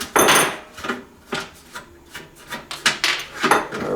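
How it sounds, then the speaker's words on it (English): Metal scraping and rasping bursts come from a wrench loosening a nut on a two-burner Coleman propane stove. The sounds are close and arrive as about eight short, irregular bursts with no talking. "Let's get this nut off."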